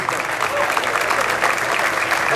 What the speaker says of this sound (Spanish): recibimos un fuerte aplauso a los campeones, Marcelo Arévalo y Sergio